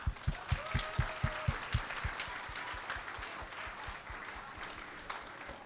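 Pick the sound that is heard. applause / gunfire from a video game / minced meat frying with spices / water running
applause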